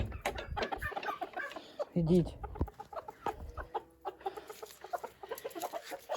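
Hens cluck and chatter close by, mixed with rustling and a voice speaking briefly over the busy farmyard noise.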